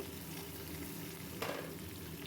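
Vegetables sizzle steadily in a pan with cumin and coriander for chicken tehari, a continuous close frying hiss with one brief scrape of stirring midway.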